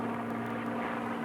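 Steady droning propeller engine of a warbird airplane turning into the wind for landing, a constant even roar with a low hum and no breaks, heard from inside or close by.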